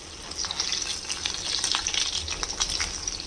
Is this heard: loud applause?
no